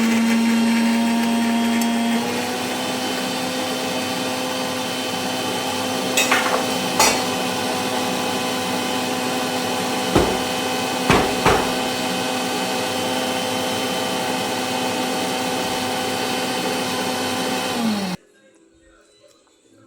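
A mixer grinder whirs steadily and loudly for about eighteen seconds, grinding sour Moovandan mango for chutney, with a few rattling knocks of pieces inside the jar before it cuts off abruptly.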